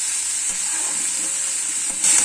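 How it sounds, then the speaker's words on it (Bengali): Bitter gourd slices frying in a pan in a home kitchen, a steady close sizzle and hiss running throughout with faint stirring clicks and a brief louder burst near the end. "এখানে করলা ভাজা হচ্ছে।"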